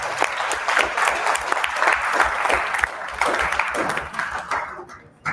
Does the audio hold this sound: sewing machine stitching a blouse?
no